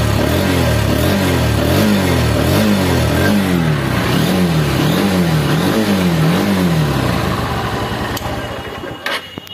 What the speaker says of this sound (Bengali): তো বিয়স এই বাইকটির সাউন্ড এবং সাইলেন্সারের সাউন্ড কিন্তু শোরুম বরাবর